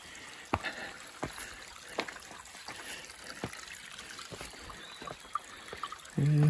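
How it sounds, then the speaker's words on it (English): A river flows beside a hiking trail on a mountain loop near Mount Myoken, heard as a faint, steady trickle of water with soft intermittent thumps of footsteps and a louder bump at the end. "It's great to always have the sound of the river next to you."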